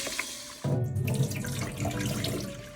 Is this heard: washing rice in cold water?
yes